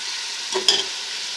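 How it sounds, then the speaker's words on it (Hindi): Beef korma meat roasting in oil over a low flame, an even soft sizzle broken by one brief stir or clink midway. "जब तक हमारा गोश्त जो है वो फ्राई होता है"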